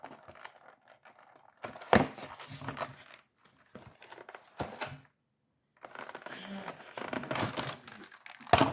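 Crinkly plastic packaging being opened during an unboxing of an action-figure set, with bursts of crumpling and tearing separated by pauses, close and moderately loud.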